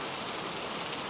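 Rain falling in a continuous, even hiss of drops, steady and close with no other sounds rising above it.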